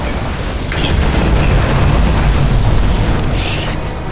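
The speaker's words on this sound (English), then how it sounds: "The fuses just blew." Fuses blowing out in Nobody Wants To Die give a loud, close boom that swells into a sustained rumbling roar with crackling bursts, and no one speaks.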